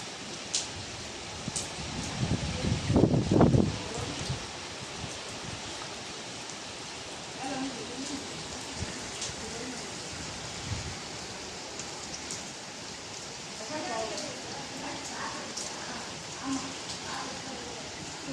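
Heavy rain pours steadily during a flood, a constant broadband wash with a louder burst of splashing early on and faint voices in the background.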